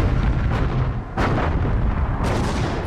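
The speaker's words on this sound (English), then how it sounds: "At 3:51 a.m., radar-controlled guns on the American battleships open fire." Radar-controlled guns on American battleships open fire in a heavy naval night battle, with deep booming blasts over a continuous rumbling roar.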